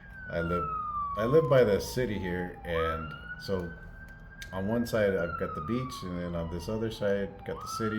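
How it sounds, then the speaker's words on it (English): Emergency vehicle sirens wail steadily in the background, pitch rising and falling slowly, while someone talks continuously over them. "And sorry about the sirens."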